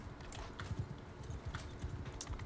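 Galloping horses in the game Mount & Blade II: Bannerlord, quick irregular clip-clopping hoofbeats of several animals, faint and distant beneath game ambience.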